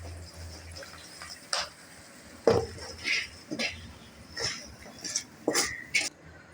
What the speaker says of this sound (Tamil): இப்போ இது தாளிப்பு அந்த சட்டியில் கொட்டிடுறாங்க.